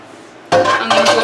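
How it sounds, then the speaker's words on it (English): A cup of water splashing and pouring into a bowl for homemade teriyaki sauce, a loud close burst that starts suddenly and runs steadily with a brief surge partway through. "So I'm going to go ahead and start with the 1 cup of water"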